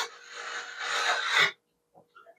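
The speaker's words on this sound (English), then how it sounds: "because it's 80 grit sandpaper, it will sand pretty quick" 80-grit sandpaper scrapes across the leading edge of a model aircraft wing in one continuous, rough rasping stroke lasting about a second and a half, followed by quiet with a few faint soft scuffs.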